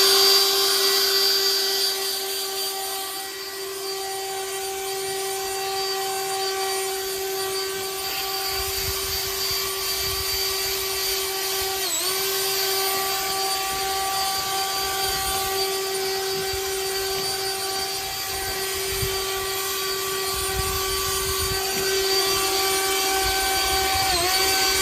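A Bullseye handheld turbo blower runs continuously while blowing leaves out from under bushes, a loud steady high-pitched whine that holds its pitch with small dips throughout.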